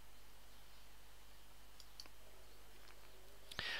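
A single computer mouse click on an OK button in FileMaker database software, a short sharp tick near the end after faint softer clicks, alone over quiet room hiss.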